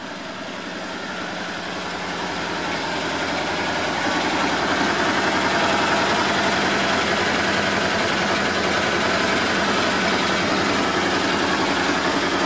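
A 2016 Can-Am Defender HD8 utility vehicle engine idles steadily up close, a loud, even mechanical rumble that swells slightly over the first few seconds and then holds constant with no voices.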